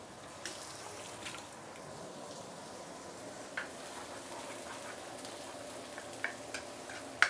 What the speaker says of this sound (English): So we are going to saute this for a minute or two before we continue.